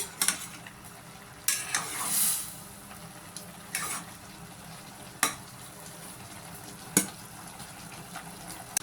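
Food frying in a pan while a utensil stirs it, with a steady soft sizzle broken by several sharp scraping and clinking strokes against the pan.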